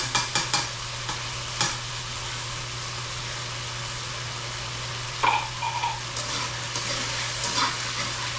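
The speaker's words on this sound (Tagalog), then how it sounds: "Ngayon ako nakaluto ng sardinas na may pako." Sardines with fern fry in a pan, giving a steady close sizzle broken by a few sharp utensil clacks and stirring scrapes.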